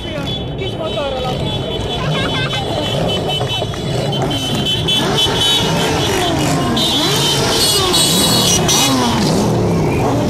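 A small motorcycle passes in a wine-harvest parade, its loud revving engine mixed with other vehicles, crowd noise and a loudspeaker voice talking over it.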